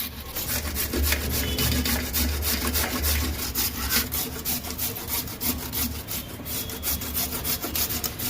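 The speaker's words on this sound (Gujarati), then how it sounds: "ખમણી લઈને હળદરને આવી રીતે ખમણી નાખવાની છે અઢીસો અઢીસો ગ્રામ હળદર આપણે ખમણી નાખશું આવી રીતે" Fresh turmeric root is grated by hand, making a continuous rapid scraping rasp with quick repeated strokes that is close and fairly even throughout, with no voices.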